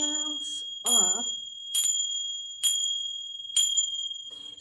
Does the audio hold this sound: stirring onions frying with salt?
no